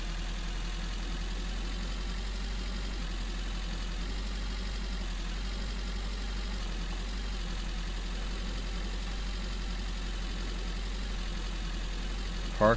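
A haul truck sits idling in Giant Machines 2017, a steady low engine drone holding even and unbroken throughout, with no voices over it.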